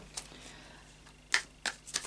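Quiet setting with a few brief papery riffles and snaps, like cards being shuffled, in short separate bursts near the end.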